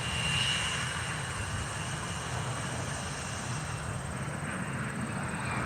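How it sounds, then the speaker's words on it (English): An Embraer E170 regional jet with Delta Connection at an airport produces a steady, fairly distant engine roar with a broad rushing whine that holds level throughout. "This is Embraer Delta Connection E170 is here."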